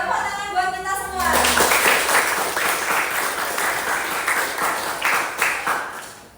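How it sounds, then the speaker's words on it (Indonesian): Students at a vocational high school break into sustained, dense applause that starts suddenly after a moment of voices and keeps going steadily, filling the classroom with loud clapping. "tepuk tangan buat kita semua"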